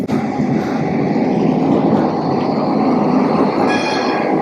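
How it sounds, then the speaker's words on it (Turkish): A tram rolls past on the streets of Porto, loud and close, with a continuous rumble of wheels on rail and a high squeal of wheels toward the end. "Bu arada bir tramvay geliyor. Tramvayın geçişini hep beraber izleyelim."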